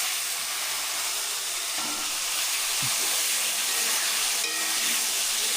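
Eggplant slices fry in plenty of hot oil, giving a loud, steady broadband sizzling hiss that stays close and continuous, with no talking.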